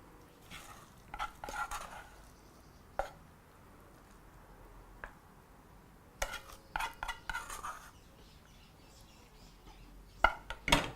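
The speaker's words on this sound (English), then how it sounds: "giving it a nice quick mixture before scooping the rest of your dish" A spoon mixes and scoops mutton biryani, giving scattered faint clinks and scrapes against the dish. The sounds come in short irregular bursts over a quiet background, with no talking.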